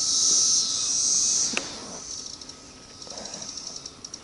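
A cicada buzzes in a loud, steady high drone outdoors beside a fishing spot, then breaks into rapid pulsing clicks as it fades.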